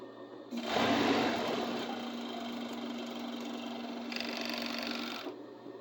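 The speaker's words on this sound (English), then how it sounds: "That is what a serger does." A serger sewing machine runs steadily for several seconds, trimming and thread-wrapping a fabric edge, with a constant hum and a brief brighter rise in pitch near the end before stopping.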